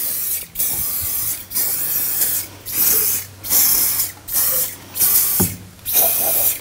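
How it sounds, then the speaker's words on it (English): An aerosol can of mold release spray for beeswax candle molds hisses in a series of short sprays, about six bursts separated by brief pauses, close and fairly loud. "This is a mold release spray."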